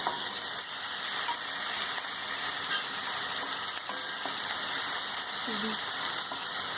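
Grated ginger goes into a hot pan with big cardamoms and hisses in a steady bright sizzle that carries on with faint clinks and stirring.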